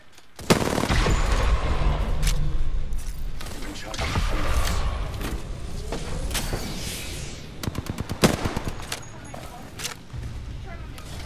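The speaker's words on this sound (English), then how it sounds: "Getting shot at." Gunfire in the Apex Legends battle royale game, with loud close bursts and rapid automatic rattles. The shots come in irregular volleys over a background of game action, and a quick run of sharp shots sounds near the end.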